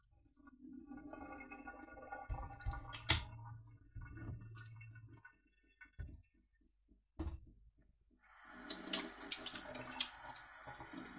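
Hands washed under a running kitchen tap: bursts of flowing water with splashes and a few sharp clinks, then a steadier stream of water toward the end, fairly quiet and close.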